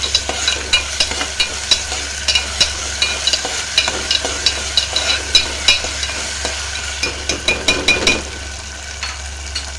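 Ginger garlic paste sizzles in a pan for a tomato curry while a spoon scrapes through it in quick, regular strokes, close and fairly loud with a constant hiss underneath.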